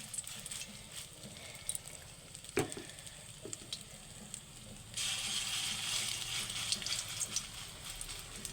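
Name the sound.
khesari lentil paste fritters frying in hot oil in wok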